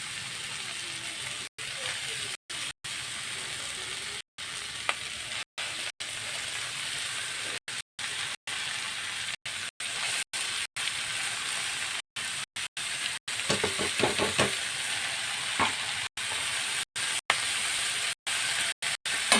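Leafy greens sizzle in a hot kadai wok as they are fried for shaak bhaja, a steady close hiss running unbroken except for a few abrupt short gaps.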